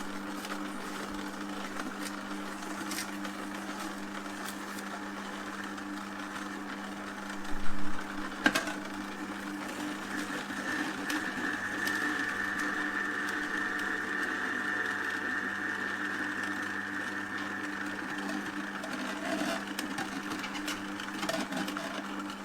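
A Mod Appliances cold press juicer motor turns at a slow 65 RPM, giving a steady, low mechanical hum and whine with a couple of brief knocks partway through, running alone without talk.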